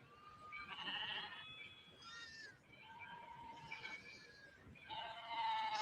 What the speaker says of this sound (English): What is it? A Judas goat.